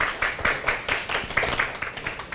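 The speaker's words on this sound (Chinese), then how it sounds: "那就再次掌声谢谢魏哥他们。" Applause from a small conference audience during a tech talk, a short run of close, sparse hand claps with an uneven rhythm, fading slightly toward the end.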